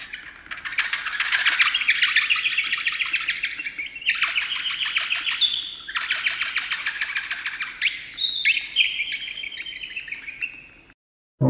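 A stone blown like a whistle to imitate bird song gives bright chirping, warbling phrases in several bursts with short pauses, close and clear, with no talk.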